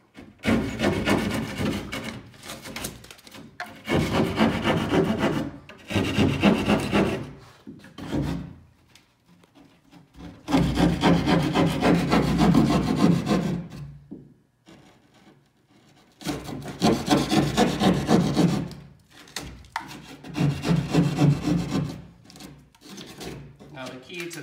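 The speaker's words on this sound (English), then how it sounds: "you just carefully cut the back of the board" Spare drywall being cut from the back of the board to make a patch, producing repeated bursts of scratchy rasping and scraping strokes separated by short pauses, close and fairly loud, with a voice speaking intermittently.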